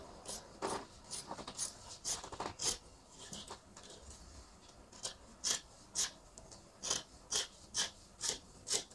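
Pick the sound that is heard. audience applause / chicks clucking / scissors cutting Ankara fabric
scissors cutting Ankara fabric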